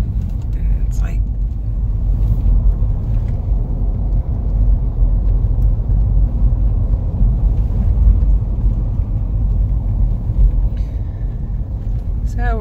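A car driving the slow, winding Oatman Highway from Oatman toward Kingman, Arizona, gives a steady low road rumble and engine drone throughout, with a person talking quietly over the noise.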